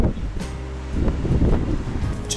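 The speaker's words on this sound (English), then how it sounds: "The real wind blowing." Gusty coastal wind buffets the microphone outdoors, a steady low roar with rustling surges, no voices.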